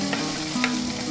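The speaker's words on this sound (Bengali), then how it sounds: "এবার আমি এর মধ্যে দিয়ে দেবো আদা বাটা।" Ginger paste fries with softened tomato in a pan for crab curry, a brief close, steady sizzle with faint crackles and no speech.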